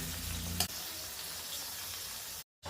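Potatoes and peas frying in a pan for a Maharashtrian potato-pea sabji give a steady, faint sizzle with light spattering. A brief clatter comes in just before the middle, and the sound drops out to silence near the end.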